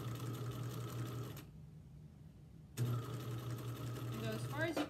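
A sewing machine stitches fabric onto rope in quick close bursts of rapid mechanical chatter, pausing briefly midway before running again, with a voice speaking over it.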